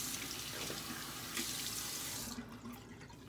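Water runs steadily from a tap as a shaver wets their head, a continuous close splashing rush that cuts off near the end, leaving quieter trickling.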